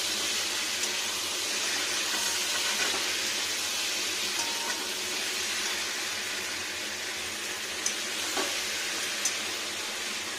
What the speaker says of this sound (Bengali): এটা হচ্ছে রেড চিলি, এটা ঝাল আছে, এমন নয় যে কালারিংয়ের জন্য করা হচ্ছে, এটা টেস্টির জন্য দেওয়া হচ্ছে। কষিয়ে নেবো ভালো করে।